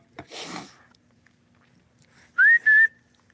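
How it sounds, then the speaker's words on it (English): At a camp on the Ohio River, a short breathy noise, then after a pause a person whistles two clear rising notes, close and fairly loud. "I heard another whistle."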